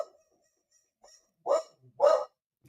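A dog barks nearby, two loud distinct barks after a faint soft whimper, with quiet gaps between, heard alone.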